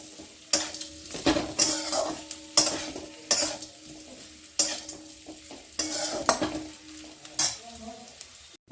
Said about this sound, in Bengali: ওই মশলাটা এর সঙ্গে আমি ভেজে নেব।